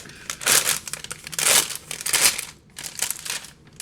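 Wax paper crinkling and crackling as pie crusts are handled in a muffin pan for a holiday snack, several loud bursts of rustling close up with brief pauses, no talk.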